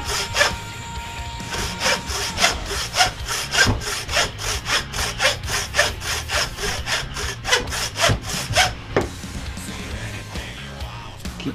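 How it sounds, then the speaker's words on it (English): A hand saw cuts through a deer skull to remove the antler plate, with about fifteen rhythmic rasping back-and-forth strokes up close, steady and loud, then stopping. "this is quite a skull. So we're going to have to really saw"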